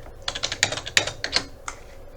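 Keys on a computer keyboard are tapped in a quick burst of about a dozen crisp, close clicks at an uneven pace as a zip code is entered, with no voices.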